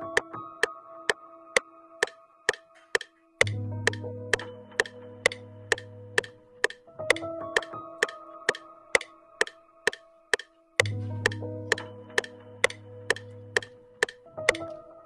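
A basic piano loop from the free Piano Book sample library plays with sustained chords and recurring low bass notes. Crisp, ticking clicks run at an even pulse throughout, with no voices.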